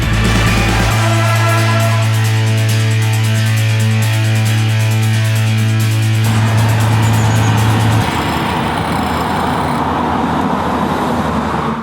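A 2016 Scion iM hatchback driving on the road, steady engine drone with a held low tone that drops away, then broad tyre and road noise rushing continuously, fairly loud with no talking.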